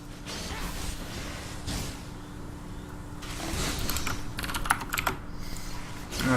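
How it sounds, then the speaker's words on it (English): Computer keyboard tapped in rapid, uneven bursts during a livestream of an esports match, close and clicky over a continuous background hum, with no voices. "I'm sorry for the keyboard tapping"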